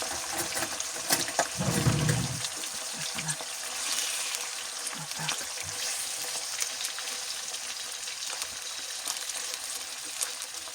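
Washed liver hits a heated frying pan with sunflower oil and bursts into a loud, steady sizzle and crackle, with a brief clunk of handling early on and continuous spattering throughout.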